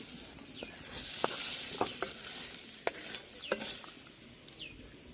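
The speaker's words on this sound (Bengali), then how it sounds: "চিংড়ি মাছটা আবারও দিয়ে দিলাম, পেঁয়াজের সাথে ভালো করে নেড়ে নেব।" Shrimp and onion being stir-fried in a pan: a steady sizzle with repeated scraping strokes of a spatula against the metal, close and moderately loud, with no talking.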